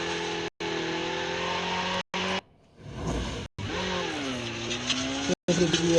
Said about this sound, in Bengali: বাইক নিয়ে সামনে যাচ্ছে